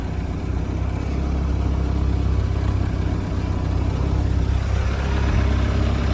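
A Volvo Penta GLP-J boat engine on a GM block runs with a steady, loud, rumbling drone that swells slightly as the RPM rises, heard up close and alone.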